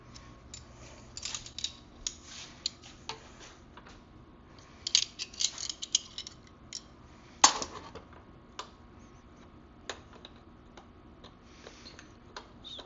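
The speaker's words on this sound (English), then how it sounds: "First we're going to loosen up these adjusters." Brake adjusters being loosened on the hub of a 1974 MX100 motorcycle during restoration: sparse metallic ticks and clicks of tool work, with a few sharper clanks midway, quiet and close with no speech.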